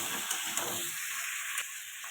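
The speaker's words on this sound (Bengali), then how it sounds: "এবার কুমড়োগুলো দিয়ে দেবো, দিয়ে এটা ভালো করে কষাবো।" Pumpkin pieces sautéing in a pan of oil for a fish curry, giving a steady broadband sizzle with a couple of brief clinks or stirring knocks, fairly close and continuous throughout.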